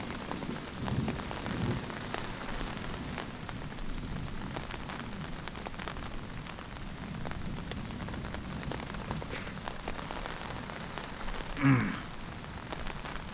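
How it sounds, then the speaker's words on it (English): Very light rain falling at a campsite as a storm approaches: a faint, soft pattering of sparse drops over low wind noise, quiet and continuous with no voices. "It is beginning to rain just a little bit, everyone."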